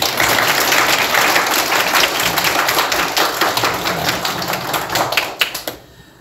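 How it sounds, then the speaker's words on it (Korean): Church congregation claps together during a Sunday worship service to welcome a first-time visitor, a dense, steady burst of applause filling the sanctuary for about five seconds before tapering off quickly at the end. "우리 박수로 환영할까요?"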